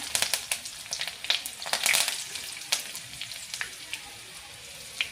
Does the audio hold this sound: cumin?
yes